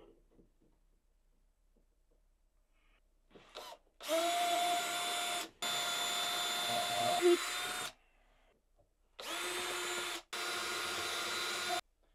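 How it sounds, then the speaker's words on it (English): A power drill bores mounting holes for a Hykoont SZ300 solar security light in three loud, sustained bursts of whining motor noise with short pauses between them, close to the microphone and without talk. "Gonna drill the other three holes."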